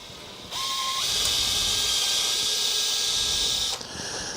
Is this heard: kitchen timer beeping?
no